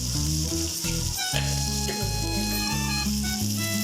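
Ingredients for egg curry sizzle steadily in a pan, a continuous frying hiss sitting under louder background music with stepping bass and melody notes.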